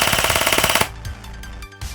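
An airsoft gun with a programmable MOSFET fires on full auto, a rapid close mechanical rattle of roughly a dozen shots in under a second, followed by quieter handling clicks.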